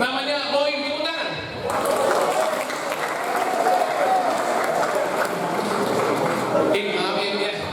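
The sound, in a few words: audience applause at seminar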